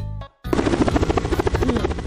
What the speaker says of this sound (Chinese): 这个新直升机挺平稳的，没有浪费我一千个钻石呢。